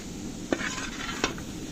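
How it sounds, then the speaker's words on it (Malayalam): Vegetable pieces stirred in a pot for a sadhya dish, a low steady sizzle with two sharp scraping clinks of the spoon against the pot, close and brief. "നന്നായിട്ട് നമുക്കൊന്ന് ഇളക്കി കൊടുക്കാം"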